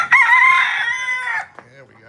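A rooster crows loudly and close by in one long drawn-out call, followed by softer clucking and fainter crowing.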